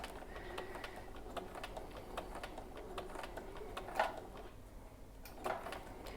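A sewing machine stitches across a bag strap for a key hook, giving soft, rapid mechanical ticking and clicking in a steady run, with a couple of slightly louder knocks and no talking.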